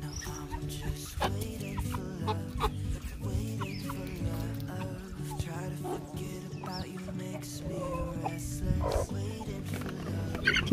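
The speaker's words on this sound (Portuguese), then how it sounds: "Sempre vocês perguntam qual a raça da minha galinha. É a galinha caipira legítima, sabe?" Free-range caipira hens of the carijó type cluck in a rural yard at dusk, with soft repeated calls and occasional louder squawks over a steady low background hum.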